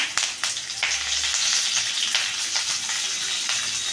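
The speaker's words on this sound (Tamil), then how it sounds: "இப்போ கருவேப்பிலை போட்டுக்கணும்" Curry leaves sizzle and crackle in hot oil after mustard seeds, a bright continuous hiss with scattered pops, close up and steady.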